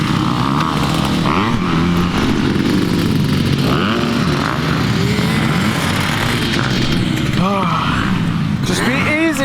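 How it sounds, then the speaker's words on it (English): A dirt bike engine revs and drones continuously at the Tampa MX motocross track, loud and close, with people talking over the engine noise. "I love the way this bike corners."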